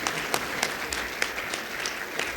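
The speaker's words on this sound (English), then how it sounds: "Big round of applause for Dr." Audience applause greets an award recipient at a dental sciences conference convocation, steady continuous clapping from a large hall with a few sharper claps standing out.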